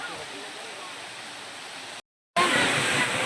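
Water pours down from an artificial mountain of Krishna lifting the hill in a temple garden in Mathura-Vrindavan, a continuous close rushing hiss broken by a brief cut, then louder.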